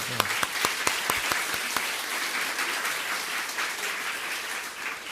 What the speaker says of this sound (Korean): 우리 서로에게 격려의 박수 한번 하겠습니다.